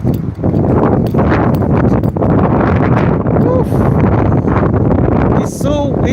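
Strong wind roars across an outdoor microphone in a constant heavy rush, with a few faint higher sounds briefly poking through.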